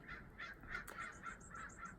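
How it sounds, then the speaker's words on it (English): A crow caws about eight times in a steady, evenly spaced run, moderately distant and somewhat hoarse, over a faint hiss of outdoor ambience. "there's so many freaking crows here"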